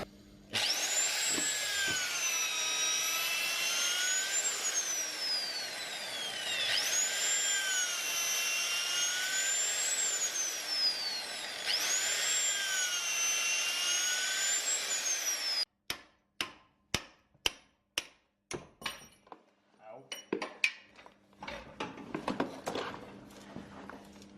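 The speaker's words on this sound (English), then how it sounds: "We don't have a press, so we're just going to drill them out" A power drill whines loudly for about fifteen seconds in rising and falling surges, drilling out a suspension bush on a Holden Commodore, then stops, followed by a series of sharp knocks and clatters.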